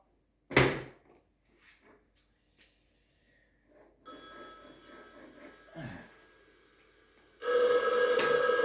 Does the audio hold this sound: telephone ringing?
yes